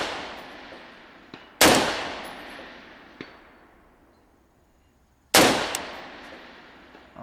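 Two sharp, very loud gunshots from a gas-operated gun fitted with a muzzle brake, several seconds apart, each followed by a long decaying ring. Faint clicks and clanks fall between them. No talk.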